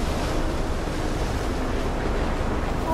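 A tornado's wind roars through the video game Life Is Strange as a steady, dense rush of broadband noise, unbroken and with no voices over it.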